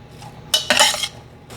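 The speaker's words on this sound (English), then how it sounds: "We're going to give it a stir. We're going to cook the onions a little bit." Onions being stirred in a metal pot, with a couple of quick scraping, clattering bursts of spoon against pot at close range, then quiet.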